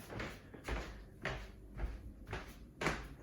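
Creaky kitchen floor laid without joists, bare boards giving a series of five or six dull thuds and creaks at roughly half-second intervals as someone steps across it, fairly close, with no talk.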